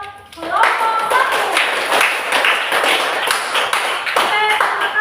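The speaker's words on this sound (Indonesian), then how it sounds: "Kita tepuk tangan dulu buat kelompok 1." A group of schoolchildren in a fourth-grade classroom clap their hands together, a dense, steady patter of many palms close by with a voice and bits of talk mixed in.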